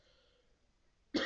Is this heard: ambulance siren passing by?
no